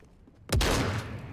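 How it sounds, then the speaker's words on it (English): A single sharp, loud gunshot from the video game Fortnite bursts out after a quiet moment, followed by a booming echoing tail that rings on to the end. "A lot of gunshots going on over there"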